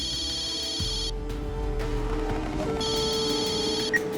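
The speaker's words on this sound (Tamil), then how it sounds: "கஜானன் தான் ஃபோன் பண்றாரு, ஒரு நிமிஷம் இரு." A telephone rings in a Tamil television drama scene. Two bursts of a bright, buzzing electronic ring are separated by a pause, over a low steady room hum, with no voices.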